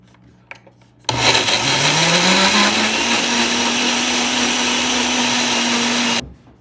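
A countertop blender whirs loudly and steadily for about five seconds, mixing a mandarin orange dressing, its motor pitch rising as it spins up, then cutting off abruptly.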